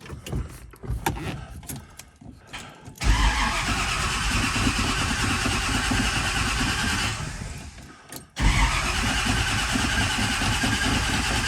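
A 1968 Chevelle SS V8 cranks briefly on the starter, then fires into a loud, steady cold idle that dips for a moment before catching again, close up with no talk.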